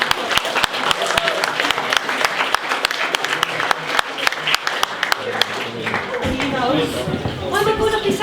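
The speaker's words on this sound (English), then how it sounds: "Give Katrina a big round of applause." At a traditional Irish music tribute concert, an audience claps with loud, sharp, rhythmic applause for a singer. It begins as a brisk, fairly steady beat, then loosens as voices and cheering rise toward the end.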